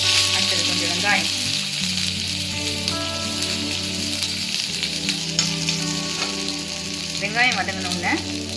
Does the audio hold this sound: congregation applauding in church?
no